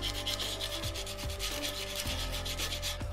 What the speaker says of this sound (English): rough it up with the sandpaper square to give the heat wrap something to grip